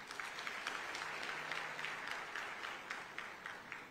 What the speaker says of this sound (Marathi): टाळ्या वाजून अभिनंदन करा त्यांचं.